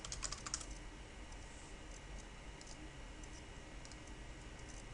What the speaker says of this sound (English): Or I can type a name